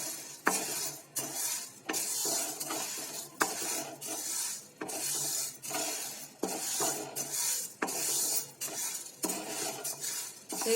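A spoon stirs and scrapes green gram (moong dal) dry-roasting in a metal pan, steady rhythmic scraping strokes about every second with a light sizzling rattle of grains, close and clear with no talking.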